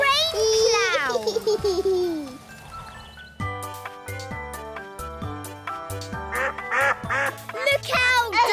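Cartoon ducks quack in a burst of bright, nasal calls near the start of a children's farm-animal show. Lively music and a voice follow, with more quacky calls near the end.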